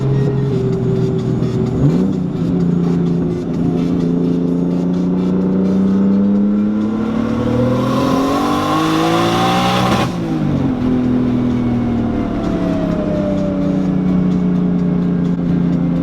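A Nissan 240SX engine revs hard with tires spinning, climbing in pitch with a rising whine and a rushing hiss, then drops back and settles into a steady drone.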